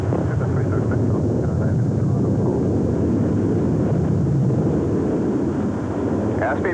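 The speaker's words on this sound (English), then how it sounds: "Concorde 193, clear for takeoff." Concorde jet engines thunder during the takeoff roll, a loud continuous rumbling roar that holds steady the whole time, with voices talking faintly over it.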